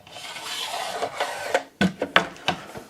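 A Festool angle stop slides onto a guide rail, a soft scraping rasp of metal gliding along the track followed by several sharp clicks and knocks as the lug seats, close and quiet with no voices.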